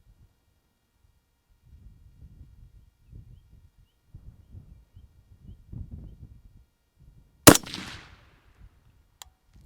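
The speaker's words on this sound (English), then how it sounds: "go ahead and send one more shot, and that'll be it." A single sharp rifle shot fired while zeroing a scope at a shooting range, one loud crack near the end after several seconds of quiet low murmuring and shuffling, followed by a short decaying tail.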